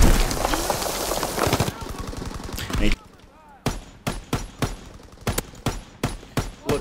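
Bursts of StG-44 assault rifle fire in a first-person shooter game, loud and close, starting as dense sustained fire and then a run of evenly spaced sharp shots, with a voice briefly speaking over it.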